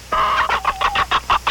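A chicken clucks close by in a quick run of about seven sharp, evenly spaced clucks, loud and clear with no talk over it.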